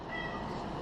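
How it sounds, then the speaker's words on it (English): A single cat meow, fairly close and clear, lasting under a second with a soft room hum behind it. "Meow."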